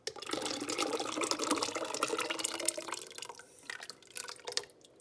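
Liquid poured from a container into a pot of gravy, heard as a quiet continuous splashing trickle that thins into scattered drips toward the end, alone with no talking.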